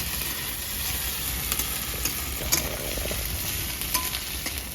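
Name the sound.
frying vegetables in pan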